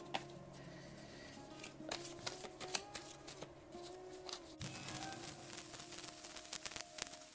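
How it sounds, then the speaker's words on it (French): Tarot cards are shuffled close by, giving soft papery rustles and light flicks at low volume against a faint background hiss. "On va quand même un petit peu mélanger."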